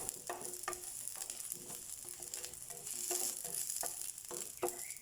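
Garlic frying in a pan for a coconut and shrimp vegetable dish, a soft continuous sizzle with light stirring scrapes and taps, quiet and close, with no talking.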